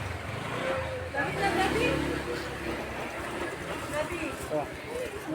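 A motorcycle passes along a busy street at a market in Chiang Rai, Thailand, its engine rising and fading amid traffic rumble while people talk over it.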